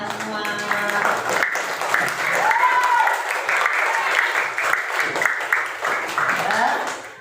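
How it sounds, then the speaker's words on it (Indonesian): Classmates in a school classroom clap together for several seconds, a dense, steady patter that carries on under a teacher's voice and chatter before fading slightly at the end. "Tepuk tangan untuk kalian semua."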